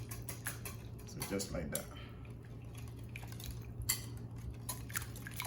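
Quick whisking of egg yolk into strawberry cupcake batter, a rapid series of light metallic clicks and scrapes against a bowl under a low steady hum, with brief talking partway through.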